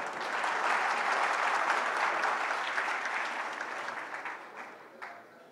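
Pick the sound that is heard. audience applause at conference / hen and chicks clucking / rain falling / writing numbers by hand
audience applause at conference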